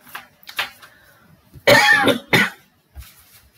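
A person coughs and clears their throat a few times indoors, with a loud burst near the middle followed by a shorter one, then a faint cough after a pause.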